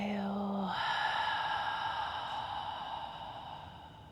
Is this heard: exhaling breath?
yes